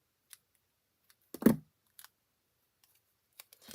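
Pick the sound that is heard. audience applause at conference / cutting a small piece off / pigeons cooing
cutting a small piece off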